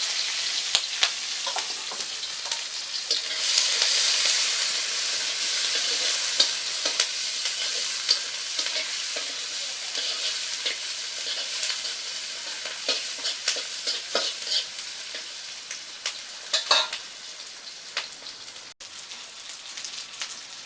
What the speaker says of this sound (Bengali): কুচানো পেঁয়াজ দিয়ে দিলাম দিয়ে রাখা কাঁচামরিচ দিলাম